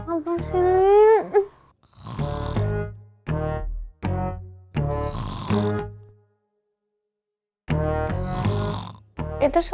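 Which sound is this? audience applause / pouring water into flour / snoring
snoring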